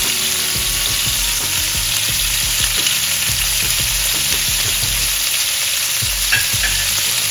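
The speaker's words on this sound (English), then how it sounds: "So now it's cooking. I'm gonna add a tablespoon of butter." Steak fries in butter in a pot with a steady, close, loud sizzle, while a utensil stirs and bastes with repeated soft scrapes and clicks. No one speaks.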